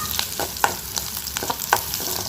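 Green chillies sauté and get stirred in a pan for banana stem kootu, with a soft frying hiss and about half a dozen distinct scraping strokes of the spoon, close and clear, with no voices.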